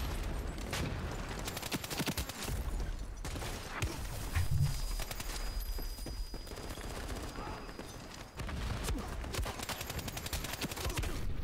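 Rapid bursts of automatic gunfire from the online shooter Ironsight, loud and dense for several seconds with brief pauses, one break near the middle before firing resumes.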